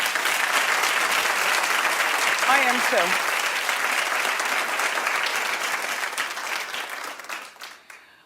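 Sustained applause from a large audience fills the space, dense and steady, then fades out near the end; a voice speaks briefly over it.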